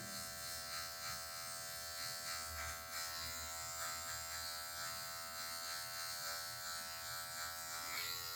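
Electric hair clipper buzzing steadily as its tip cuts a mid fade, a continuous close hum with small shifts in pitch and loudness as it moves over the head, with no voices.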